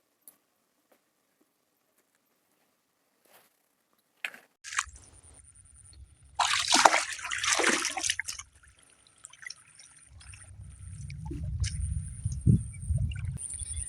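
Someone wades through a waterlogged village field with a stick while gathering water lilies. Close splashing and sloshing comes in uneven bursts after a quiet start.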